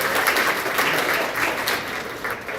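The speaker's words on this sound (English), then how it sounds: "The Grizzlies, big applause for that." An awards-ceremony audience gives the Grizzlies softball team a round of applause: a loud, even wash of clapping from many hands that continues without a break.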